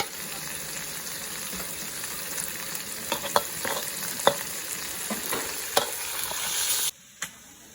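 Meat and offal for chicken larb sizzle as they are stir-fried in a pan, a steady frying hiss broken by sharp spatula scrapes and clicks, ending with a brief pause and one last knock.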